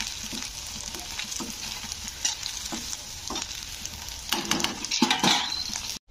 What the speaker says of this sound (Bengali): তো একটু আমি হালকা লাল করে ভেজে নেব এগুলোকে।